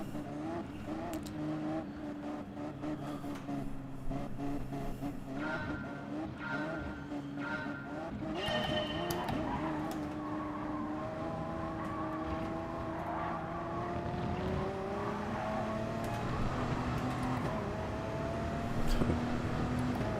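Race cars in GT Sport running on dirty tires, engines droning and revving steadily throughout with layered higher whines and some tire noise, continuous and fairly loud.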